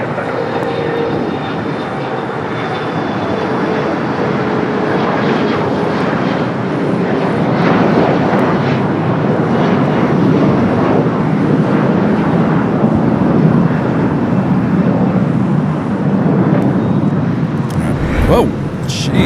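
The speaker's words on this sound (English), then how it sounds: "What is taking off there on the north side? A WestJet? 737-800" A WestJet Boeing 737-800 jet takes off at Los Angeles airport with a loud, sustained engine roar that holds steady for most of the run before fading, with voices faintly under it.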